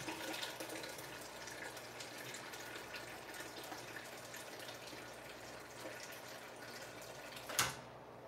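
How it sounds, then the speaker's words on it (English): Water runs steadily from the tap of a Berkey water filter, a soft continuous trickle close by, ending with a short sharp knock near the end. "Get a little water."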